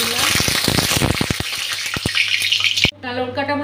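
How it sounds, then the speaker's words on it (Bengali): Dried red chillies frying in hot oil with turmeric and salt, a loud close crackling sizzle with sharp pops, cut off abruptly near the end by a different kitchen sound. "শুকনো লঙ্কাটা ভাজা হয়ে গেছে"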